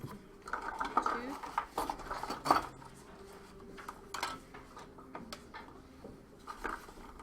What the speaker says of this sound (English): Add 2 tablespoons of mayonnaise.